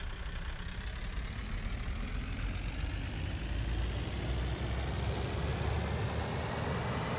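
A Land Rover Defender 90 idles with a rough, tractor-like diesel chug, a low continuous rumble that holds steady and fairly close for the whole stretch, with no talking.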